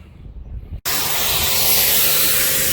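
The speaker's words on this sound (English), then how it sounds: "I'm pressure washing." After a brief low rumble, a pressure washer abruptly kicks on, unleashing a loud, steady hissing spray on a 34-foot fifth-wheel trailer that continues without pause.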